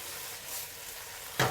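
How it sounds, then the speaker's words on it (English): Beef chunks sear in a hot pan for a garlic beef and asparagus stir fry in oyster sauce, giving a steady close sizzle that flares into a louder hiss just before the end. "You just need to sear the other side."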